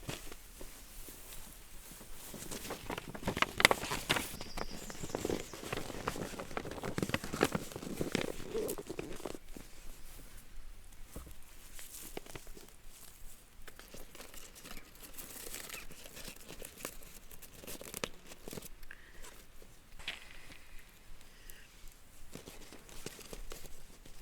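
Paper crinkles and rustles steadily as a despacho offering bundle is folded by hand, a soft, close, continuous crumpling that is louder early on and eases off toward the end.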